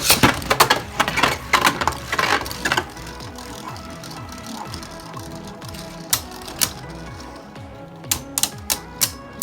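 Hasbro Beyblade Hypersphere Achilles A5 spinning tops launched with a burst of rapid clattering, then a steady whirring grind as they spin and clash in the stadium, with sharp intermittent collision clicks.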